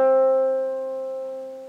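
A single harp string tuned to middle C is plucked once, ringing with a clear, steady tone that slowly decays, heard close and alone.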